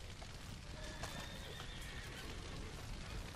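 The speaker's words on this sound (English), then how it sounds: "Horses are spooked, of course." Spooked horses neigh and whinny in the Red Dead Redemption 2 video game, with hoof clip-clops and steady background noise; the calls carry at moderate distance over about three seconds, and no one speaks.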